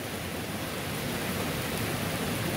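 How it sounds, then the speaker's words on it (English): Steady rain falls on a lazy day around an old schoolhouse, a constant broadband hiss with no breaks, fairly close and even in level, with no talking. "The rain took the heat off of the day."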